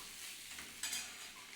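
Fish roe fritters fry in hot oil with a soft, continuous sizzle and a brief stirring scrape partway through, faint and without speech.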